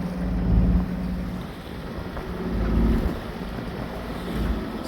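Wind buffets a small sailing boat at sea at around 12 knots, a steady rushing drone with a low hull rumble that swells and eases in two slow gusts, no voices.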